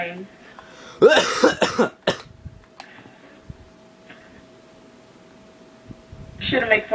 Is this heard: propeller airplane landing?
no